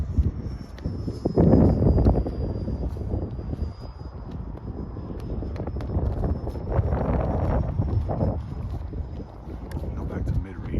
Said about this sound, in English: It is super windy, y'all.